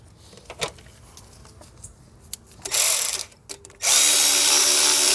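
A power tool drives the oil pan bolts back in on a Honda Accord, with scattered clicks and handling noises, then two loud whirring bursts, the last running steadily to the end, close up and without talk.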